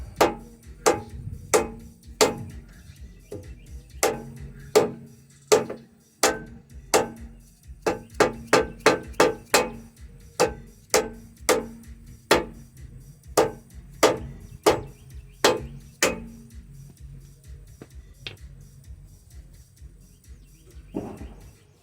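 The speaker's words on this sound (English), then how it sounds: "I'm gonna get my dead blow. I'm gonna push it back just a little." Dead blow hammer repeatedly tapping a car bumper into place, a long series of sharp, loud knocks in irregular bursts, some rapid runs and some spaced out, with no talking.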